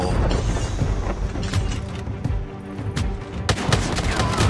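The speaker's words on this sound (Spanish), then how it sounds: "Llevo conmigo la escopeta Striker, así que rushearé sin miedo." Rapid shotgun blasts from a Striker shotgun in a first-person shooter video game, loud and close, several sharp shots in quick succession over a dense, busy game soundscape.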